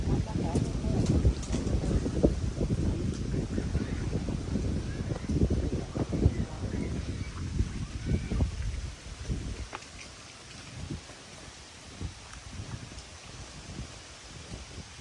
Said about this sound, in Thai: ลมแรง